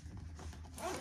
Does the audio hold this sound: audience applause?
no